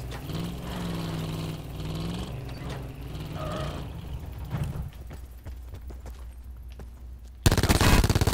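Gunfire in the Black Ops 4 Blackout battle royale video game: sharp bursts of rapid shots crackle over a steady game-ambience hum, with a louder blast of noise at the very end.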